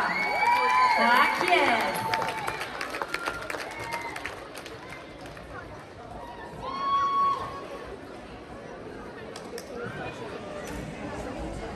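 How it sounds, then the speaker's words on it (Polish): An audience at a dance competition in Raszyn cheers a dance team with shouts, whoops and lighter clapping, and the crowd's noise rises and falls while someone shouts nearby. "Poproszę państwa o wielkie, wielkie brawa!"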